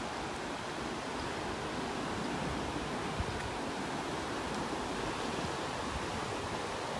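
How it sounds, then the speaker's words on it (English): Steady soft wind rushes across a beach sandbar in North Naples, Florida, an even, faint broadband hiss blended with distant surf, and no voices. "A nice little breeze blowing out here."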